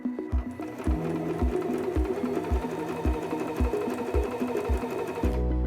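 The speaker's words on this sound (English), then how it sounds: "Release the reverse lever and continue sewing forward." A Singer M2400 sewing machine stitching forward, a close, steady mechanical whir with a regular thumping needle rhythm of about two beats per second that continues throughout.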